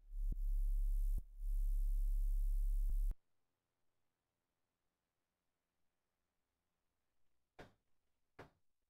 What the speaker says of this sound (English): one of my favorite sounds on the planet is a clean erosion high end on a sub